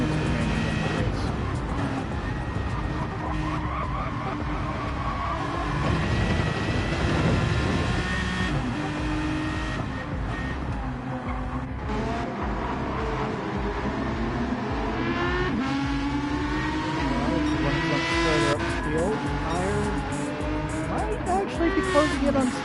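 Race cars in a sim racing game drone and rev continuously, engines rising and falling as they run close together, under almost constant commentary.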